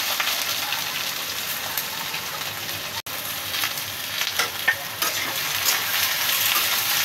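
Eggplant fries in hot oil in a pan, with a steady close sizzle and repeated scraping and stirring strokes throughout, alone with no voices.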